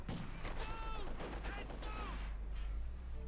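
Machine gun fire during a Company of Heroes 2 match on the El Dorado map, Wehrmacht against Soviets: dense rattling bursts blend with other battle noise under steady commentary.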